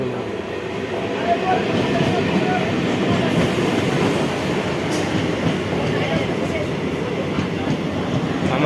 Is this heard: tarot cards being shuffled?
no